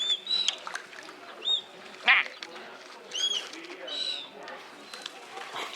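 Birds at a salmon farm in New Zealand's South Island give several short calls and chirps scattered over the clip, moderately close, alongside people talking.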